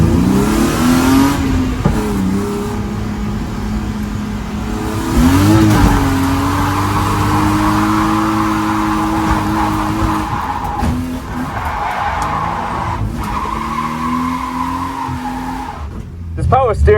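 A drift car on a track revs hard and skids with squealing tires, engine pitch rising and falling through the corner, loud and close, with a brief talking voice toward the end.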